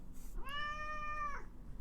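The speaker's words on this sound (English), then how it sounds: "This cat is lost. Both my cats have gone insane." Domestic cat meowing indoors: one drawn-out, clear meow lasting about a second, fairly close and moderately loud over quiet room tone.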